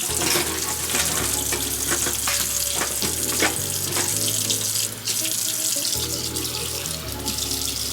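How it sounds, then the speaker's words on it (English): A hot tap runs steadily into a sink while live blue crabs are cleaned, water splashing continuously up close, with occasional clinks of items being handled. "Now we will put on the hot water and just start cleaning them."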